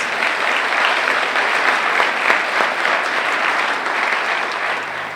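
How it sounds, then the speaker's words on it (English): Inauguration crowd in Tulsa applauding as a Muskogee Creek councilman and Native American flute maker is welcomed, a broad sustained wash of many hands clapping at moderate distance, no talk. "Yes, applause."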